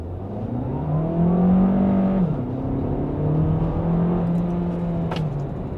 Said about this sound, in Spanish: Ahora, cuando le exijo, arrancando desde cero, el auto se comporta de forma rara